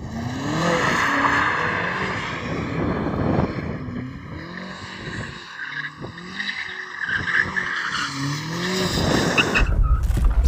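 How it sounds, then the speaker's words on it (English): A BMW M5 CS engine revs hard during a tyre-warming burnout before a drag race, with rising and falling whines and tyre squeals, loud and continuous, with some skidding noise throughout. "Before we race, shall we warm up our tyres?"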